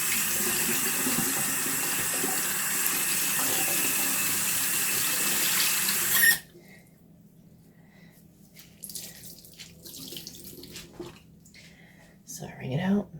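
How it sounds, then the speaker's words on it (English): Tap water pours steadily into a sink while a makeup eraser cloth is rinsed, a loud, even rush lasting about six seconds before it cuts off, followed by quieter handling noises and soft speech. "Then I'm going to rinse out my makeup eraser and wipe my face again."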